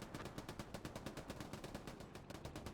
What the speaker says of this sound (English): Oh, Babyface opens fire